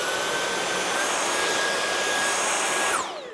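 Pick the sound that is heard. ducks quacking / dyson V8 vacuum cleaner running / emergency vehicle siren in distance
dyson V8 vacuum cleaner running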